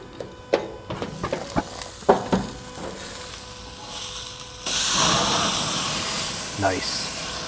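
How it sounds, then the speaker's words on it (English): A Mexican burger sizzles steadily as it cooks, a soft hiss that turns louder partway through, with clicks and clatter of handling and a person talking over it. "we're just gonna let the burger continue to cook."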